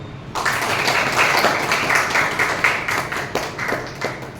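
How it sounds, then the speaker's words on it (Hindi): Dense, steady applause from an audience at a training workshop, many hands clapping close by for several seconds without a break. "राइट, तालियां।"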